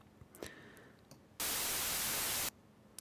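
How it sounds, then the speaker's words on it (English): A burst of plain white noise from a noise plugin hisses loud and flat for about a second, abruptly switching on and off after a quieter, faint stretch. "Just regular white noise."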